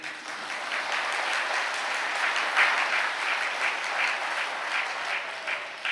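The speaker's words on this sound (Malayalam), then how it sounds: "ഒന്ന് കൈയുയർത്തി കൈയടിക്കുക" Steady applause from a church congregation at a Catholic gathering, a dense even patter of many hands clapping together throughout, with no talk over it.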